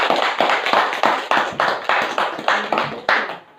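Hands clap in a steady rhythmic pattern, about a dozen sharp, close claps at an even pace, loud and dry, with no one talking over them.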